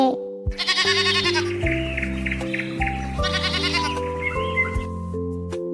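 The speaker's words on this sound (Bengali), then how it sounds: "ছতে ছাগল, ছাগল ছানা লাফিয়ে চলে" A goat kid bleats loudly up close, several long wavering cries in a row over a synthesized musical backing from an alphabet-learning song.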